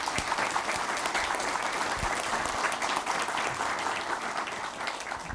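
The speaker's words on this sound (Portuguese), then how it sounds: "Empossado, então, Alfredo Cottait Neto, a quem peço uma salva de palmas." Sustained applause from an audience greets a newly sworn-in president at a business association ceremony, a dense, even patter of clapping holding steady throughout.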